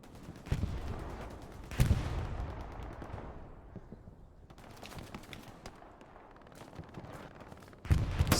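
Gunfire in the World War II shooter Hell Let Loose at Piers Farm, with sharp shots at the start, near two seconds and at the end over a steady battlefield din, while distant crackle and faint voices sit underneath.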